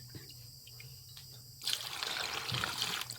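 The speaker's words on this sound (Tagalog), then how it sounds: "Buhusan natin ng tubig." Water pours and splashes steadily over snails after a quiet start, a broad hissing gush that continues to the end, close by.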